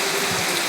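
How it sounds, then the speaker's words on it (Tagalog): Heavy monsoon rain falls in a dense, loud, unbroken hiss of drops striking surfaces, with no voices over it. "Ayan, lumakas ang ulan."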